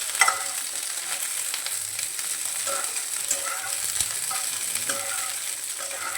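Cashews and raisins frying over a low-to-medium flame, a continuous close sizzle with faint stirring clicks throughout.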